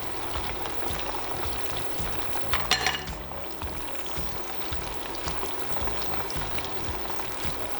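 Plantain slices frying in hot oil for tostones, a steady close bubbling and crackling sizzle throughout, with a brief louder splatter midway.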